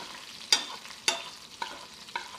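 Steak sizzles in a pan with a constant crackle, broken by four sharp clinks and spatters as it is flipped and basted at roughly half-second intervals.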